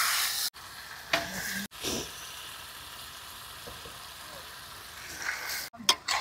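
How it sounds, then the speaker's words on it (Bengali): Washed meat drops into hot spiced oil with coriander, Kashmiri chilli powder, meat masala and pepper, crackling and sizzling steadily with a few stirring scrapes, close and fairly quiet, at a riverside picnic. "এবার দিয়ে দেবো ধুয়ে রাখা মাংস।"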